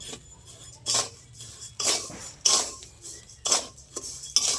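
Paddy rice stirred in a hot pan while being roasted into puffed rice, giving repeated scraping and clinking strokes at a steady rhythm, close and moderately loud, with no talk.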